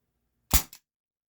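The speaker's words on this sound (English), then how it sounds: "It's a very short blowback action, but it's pretty snappy." An Umarex Walther PPS air pistol fires once, a sharp, snappy pop followed closely by the short clack of its blowback slide; the shot is close, loud and isolated against silence.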